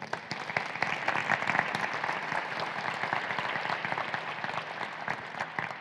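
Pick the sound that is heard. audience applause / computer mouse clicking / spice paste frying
audience applause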